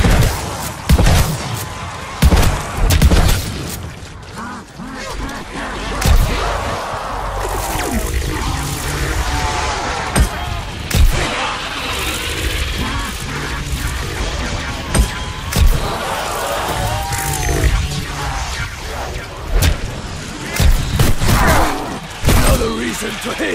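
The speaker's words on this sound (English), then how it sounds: "Keep right on shooting, soldier!" Dense, loud gunfire and impact bursts from Call of Duty Vanguard Zombies on the Shi No Numa map, with thuds, slams and clattering mechanisms packed into a busy, continuous battle mix, and voices breaking through now and then.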